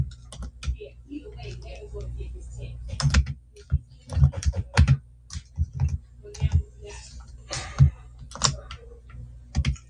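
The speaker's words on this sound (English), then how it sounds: "I'm typing one with one hand" Close-up typing on a computer keyboard: irregular bursts of sharp key clicks with short pauses between them.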